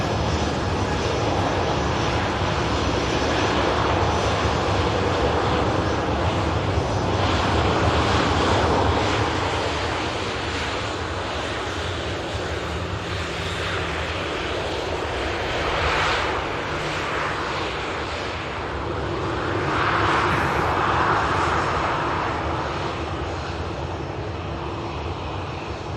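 Airliner taxiing at Manchester Airport, a steady, fairly close engine roar that swells and eases over time, continuous broadband rumble with no talk.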